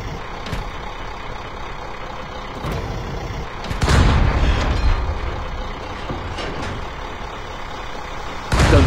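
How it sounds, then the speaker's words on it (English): A tank cannon fires in a 15-versus-15 tank combat video game, with two loud, sharp booms several seconds apart over a steady engine and vehicle rumble. "Try firing and see what happens."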